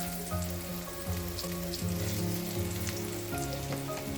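Oil sizzles steadily in a frying pan, a close crackle and spatter over a low background hum with faint tonal notes, continuous and moderately loud.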